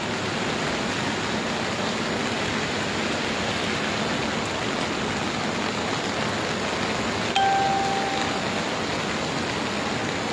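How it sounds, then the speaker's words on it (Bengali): Rain falls steadily in Singapore as an even, dense wash of hiss with no breaks, heard alone without voices; one faint brief tone rises briefly near the middle. "বৃষ্টি হচ্ছে, খুব সুন্দর একটা বৃষ্টি, মিষ্টি বৃষ্টি"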